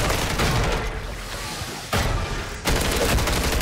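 Heavy, sustained gunfire from a buffed weapon in a Modern Warfare 3 zombies match, loud rapid shots and booms filling the moment, broken by two brief drops in intensity.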